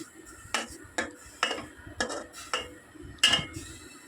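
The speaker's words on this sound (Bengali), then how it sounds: "এখানে চিংড়ি মাছগুলো দিয়ে দেবো দিয়ে একটু চামচ দিয়ে নাড়াচাড়া করে দিয়ে" A spoon stirring prawns through a thick gravy in a cooking pan, giving a regular series of clanking strokes against the metal about twice a second, fairly close, with little background noise.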